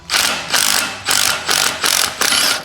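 Ratchet wrench loosening old, rusty bolts on a 4-speed Camaro Z/28, five quick loud clicking bursts in a row, close and alone.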